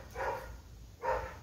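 Dogs barking from a house at people walking a dog past outside, two muffled, distant barks spaced about a second apart.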